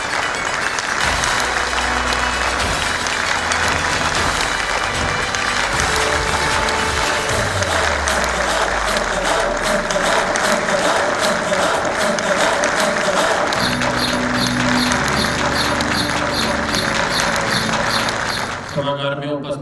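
An auditorium audience at the Kamuna Srijan 2016 cultural event gives sustained, dense, loud applause welcoming a guest on stage, with music and voices underneath, ending abruptly.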